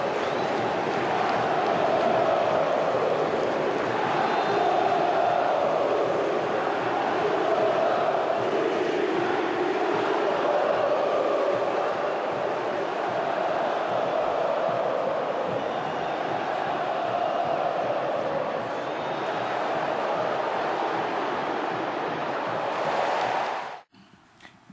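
Flamengo football supporters chant together in a packed stadium, a steady roar of massed voices holding for over twenty seconds before cutting off abruptly near the end.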